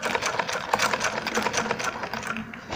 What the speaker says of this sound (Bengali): আমি এখন সেলাই করে দেখাবো কাপড় টানছে কিনা